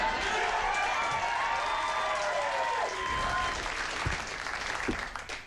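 Studio audience at a late-night talk show applauds steadily and loudly, a dense continuous wash of clapping that holds throughout and thins slightly toward the end.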